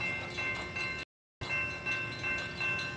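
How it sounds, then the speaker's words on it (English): A low, steady rumble of a far-off CSX train carries through faint background noise, with a brief dropout in the middle. "Yep, there's a train. Just heard him."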